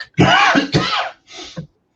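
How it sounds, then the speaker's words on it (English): A few harsh, loud coughs close to the microphone, two long rasping bursts followed by a shorter one, then silence. "I didn't realise it was just a cough"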